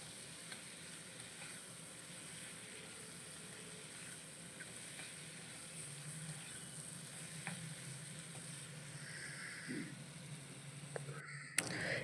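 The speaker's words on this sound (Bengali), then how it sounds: "কাঁচা টমেটোগুলো দিয়ে এবার ভালো করে আবার একটু নাড়াচাড়া করে নিতে হবে" Raw tomatoes frying in a pan, a faint, continuous low sizzle with occasional soft stirring clicks, heard from a slight distance with no talk.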